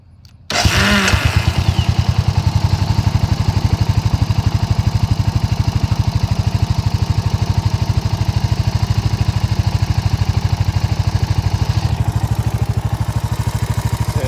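A 2006 Suzuki Boulevard S40 motorcycle fitted with a Harley Dyna exhaust pipe fires up from a hot start, then idles with a loud, close, steady rapid thumping.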